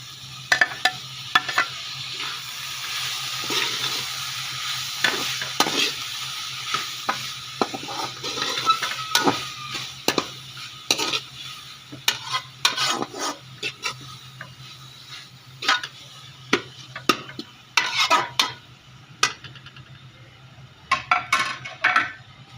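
Red tomatoes are stirred into a cooking pan for a Punjabi-style macaroni dish, producing repeated scraping and clattering stir strokes over a soft background sizzle, with irregular louder knocks throughout and no talking.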